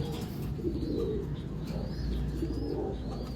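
Racing pigeons coo in a loft with soft, low, rolling calls that repeat in short bouts, mid-distance, over a steady background hum with faint chirps.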